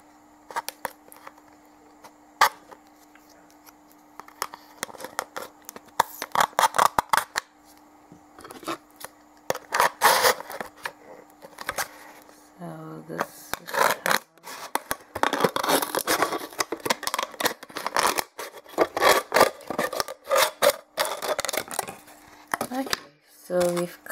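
Scissors snip through the base of a plastic bottle in a run of sharp, irregular cutting clicks and crinkles, growing denser and louder toward the middle, with quiet handling in between.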